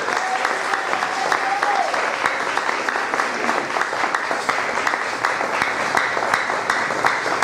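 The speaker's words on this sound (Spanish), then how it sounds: "Brinden un fuerte aplauso al Señor." Church congregation at a congress service applauding loudly and steadily, a sustained crowd of clapping with sharp individual claps standing out, plus a brief faint shout or whistle early on.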